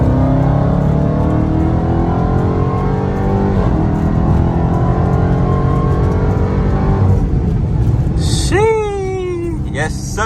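A 2021 Dodge Charger Hellcat Redeye accelerates hard onto a highway, its loud supercharged engine droning steadily and rising in pitch before easing off near the end, followed by a brief whistling whine.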